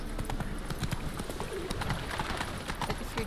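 The horse Roach trotting in the Witcher 3 video game, a quick steady run of hoof clip-clops heard faintly with no talk over it.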